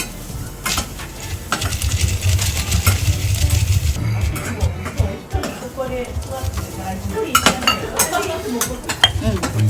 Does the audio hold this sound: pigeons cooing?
no